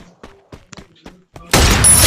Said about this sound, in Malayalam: സ്നൈപ്പർ വെച്ച് ഒറ്റയടി